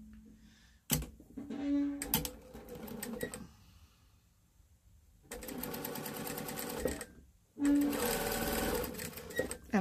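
A sewing machine stitches an ear onto a memory bear in loud bursts of rapid mechanical clatter separated by pauses, with a brief voice between runs.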